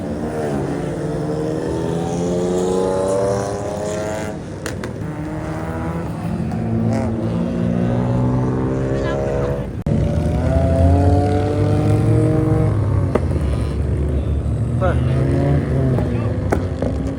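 A BMW car engine revs repeatedly, rising and falling in pitch in several climbing pulls, loud and close, with people talking over parts of it.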